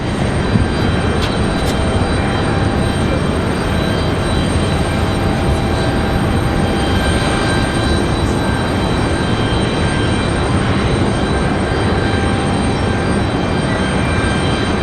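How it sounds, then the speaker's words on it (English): A Boeing 747-400 passenger jet airliner at Raleigh-Durham International Airport, a loud, steady, broad jet-engine roar that holds without a break throughout, with no talking. "This is a passenger Queen, however, the 747 carrying passengers."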